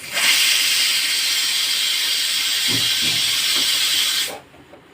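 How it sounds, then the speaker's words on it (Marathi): A pressure cooker cooking dal lets out a loud, steady whistle of escaping steam that holds for about four seconds, then cuts off abruptly, leaving a quiet kitchen. "डाळीला आपण 4 शिट्ट्या करून घेऊया."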